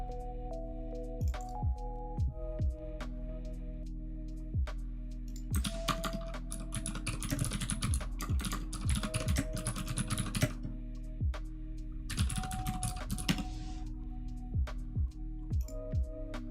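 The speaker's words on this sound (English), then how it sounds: "I'm just typing a bunch of stuff and it lags." Typing on a computer keyboard at a desk: bursts of rapid, irregular clicking key presses, close and crisp, with pauses between flurries over a steady low hum.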